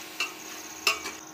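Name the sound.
sautéing masala in a pan for soybean biryani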